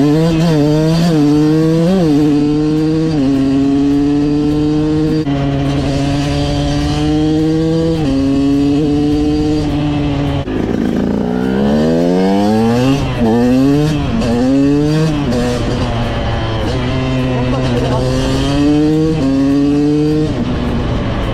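A KTM 200 EXC supermoto's two-stroke engine revs hard and loud, climbing steeply through each gear in repeated rising pulls with brief dips at the shifts, close and alone without talk.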